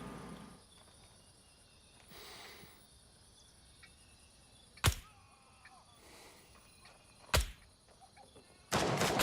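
A few sharp video game gunshots ring out, spaced seconds apart with a louder burst at the end, over a steady hum of insects and crickets.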